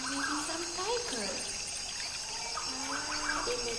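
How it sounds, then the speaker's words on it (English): Steady rushing water from a rainforest waterfall fills the background as a continuous wash of noise, with bird calls rising and falling over it and a voice speaking at times. "There is also the sound of"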